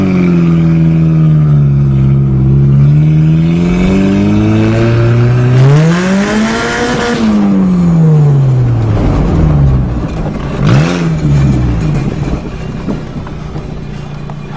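A modified 1997 Mazda Protege engine drones loudly at steady revs, then sweeps up and back down in a strong rev, followed by a quicker blip before settling. No voices are heard.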